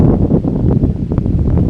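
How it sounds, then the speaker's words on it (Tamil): Strong cool wind gusts buffet the microphone at a hilltop Murugan temple near Vedanthangal, a loud, continuous low rumble with irregular surges and no voices. "செம்ம காற்று ஜில்லுன்னு அடிக்குதுங்க காற்று"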